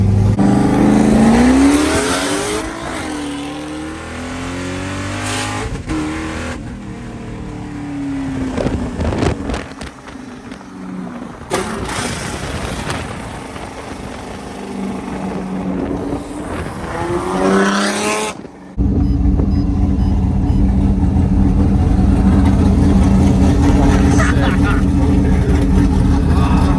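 A roughly 1000-horsepower Corvette races in Chicago, its engine revving hard in repeated rising and falling sweeps, loud and close, with a sustained full-throttle roar near the end and voices talking over parts of it.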